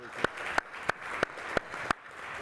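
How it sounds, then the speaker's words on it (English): Scattered applause from a small audience at a summit fireside chat, a few sharp claps standing out at a steady rhythm over a soft background patter, fairly quiet and without talk. "If everyone can give them a round of applause."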